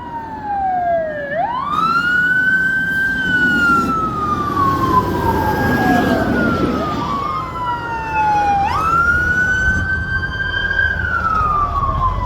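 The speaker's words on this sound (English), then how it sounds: "It's a lot of fire engines coming my way, so give it a second." Sirens of several fire engines passing on a street, loud wailing tones that rise and fall in overlapping sweeps, close by, over steady traffic rumble.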